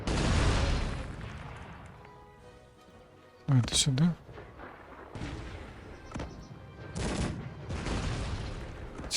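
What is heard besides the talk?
gunfire and artillery fire in the video game Cossacks 3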